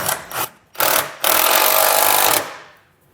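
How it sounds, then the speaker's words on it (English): A trailer wiring ground bolt is re-secured with a power tool, giving two short buzzing bursts and then a longer steady whirring run that stops abruptly, loud and close, with no talking. "And then we're just going to re-secure that bolt"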